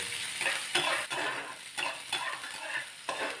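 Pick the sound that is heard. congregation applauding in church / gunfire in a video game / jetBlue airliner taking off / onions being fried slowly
onions being fried slowly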